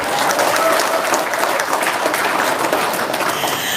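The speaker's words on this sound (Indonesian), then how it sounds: "Tepuk tangan dulu dong" A crowd applauds steadily, with dense, loud clapping that holds at full strength throughout and no pause.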